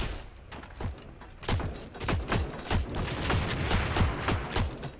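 Gunfire and grenade blasts in the online shooter Heroes and Generals, a run of sharp, close shots and thuds growing denser and louder across the clip, with no talking.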